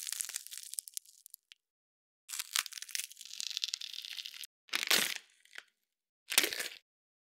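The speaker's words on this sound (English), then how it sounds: "The gory sounds are a mixture of me smashing and crunching up bell peppers." Bell peppers smashed and crunched to make gory sound effects, close and dry, in several separate bursts of wet crushing and tearing with silent gaps between them.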